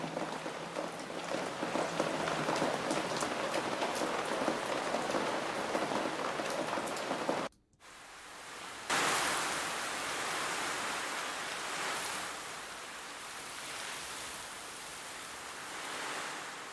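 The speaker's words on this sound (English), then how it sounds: "Here's courtyard rain." Steady rain patters and splashes on hard surfaces in an open courtyard, dense and hissing, with a short break and a slightly softer, splattery continuation.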